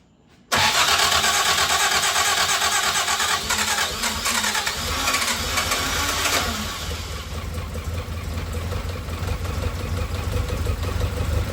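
The rebuilt engine of a 1962 Triumph TR4 cranks and catches abruptly, roaring close and loud at first, then settles into a steady, slightly uneven idle.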